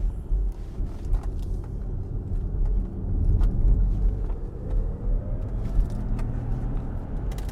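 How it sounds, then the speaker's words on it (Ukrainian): Inside an electric Jaguar car while driving, a steady low road rumble and soft tyre hum fill the cabin at a moderate, even level, with the motor itself barely noticeable. "Звук мотора ледве відчутний в салоні, шумоізоляція прекрасна."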